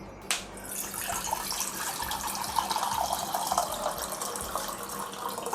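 About half a litre of water pours into a vessel for a kashayam herbal drink, a steady close splashing stream that begins after a sharp knock and continues evenly to the end, with no talk.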